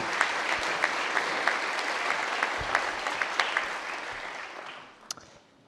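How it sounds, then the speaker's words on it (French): A conference audience gives warm applause for a speaker at an energy transition talk; steady dense clapping with a few sharp individual claps fades out near the end. "Merci d'applaudir chaleureusement Philippe pour lui donner l'énergie dont il a"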